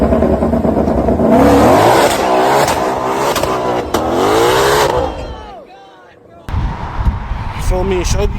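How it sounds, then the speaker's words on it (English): A car revs hard while doing a rolling burnout, loud rising engine howl with tire squeal over several seconds, then a sudden drop to near silence before noise and voices return. "you gotta do a rolling burnout, you gotta do a burnout"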